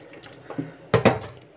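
A little water is poured into stiff flour dough being kneaded by hand, a brief close splash near the end after faint handling sounds.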